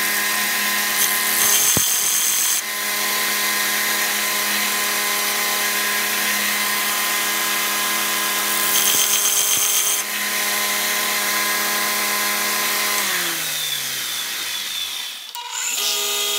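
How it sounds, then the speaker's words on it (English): A 2-inch belt sander squares the cutting edge of a Miller's Falls 1430 chisel, its steady motor hum broken by two rasping grinding passes before the machine spins down near the end. "I'm going to use the 2-inch belt sander to square off the cutting edge of the chisel."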